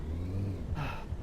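Car traffic passing outside a moving taxi, a steady low engine rumble with a swelling whoosh of a vehicle going by, heard from inside the cab.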